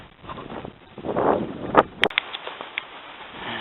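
Wind gusting outdoors by Llyn Padarn, a lake near old slate tips in Llanberis, with a low rumbling buffet across the microphone and a few sharp knocks and handling bumps, no speech.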